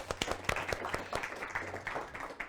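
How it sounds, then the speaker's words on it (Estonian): An audience at an Estonian angel-investment masterclass applauds with sharp, close individual claps at first that merge into a moderate, steady patter of applause. "Aplaus."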